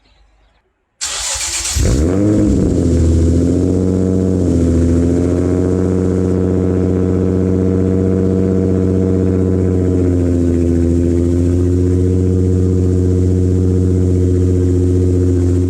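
A Nissan 350Z engine with an aftermarket exhaust cranks and fires up, then settles into a loud, rumbling idle with a deep exhaust drone and a slight rev change partway through.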